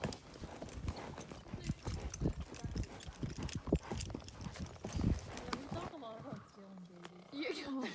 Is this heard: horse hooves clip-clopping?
yes